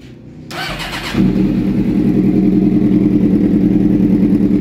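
A Suzuki GSX-R 600cc sport bike with no spark is cranked, giving a brief whirr before the engine catches into a loud, steady, close idle that runs on alone.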